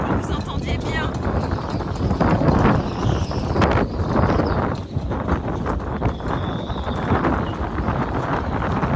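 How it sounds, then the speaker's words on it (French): Strong wind buffets the microphone in a steady, loud broadband roar with gusting surges throughout, no voices over it. "Alors regardez-moi un peu ce vent."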